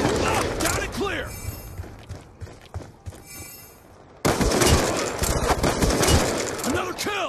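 Bursts of gunfire and sniper shots ring out in a military video game. The sharp cracks and rapid volleys come close and loud, mixed with mechanical clicks, voices and a sudden louder stretch of firing near the end.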